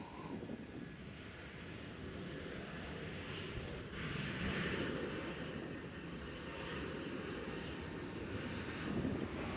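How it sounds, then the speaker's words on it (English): A WestJet airliner departs Nashville International Airport. Its jet engines make a faint, distant, steady roar that swells slightly midway and holds throughout. "So we got a WestJet headed out to go somewhere."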